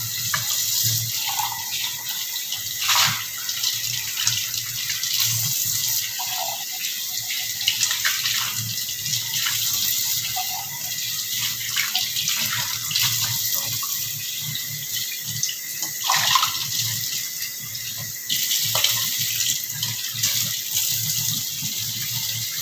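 Tap water running while herbs are rinsed in a sink, a steady close splash and trickle with intermittent gushes and small knocks, no talk.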